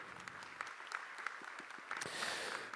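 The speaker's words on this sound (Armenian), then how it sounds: "դիմավորենք ջերմ ծափահարություններով" An audience applauds to welcome panel speakers at an Armenian diaspora discussion, a steady mass of close clapping that swells and brightens near the end.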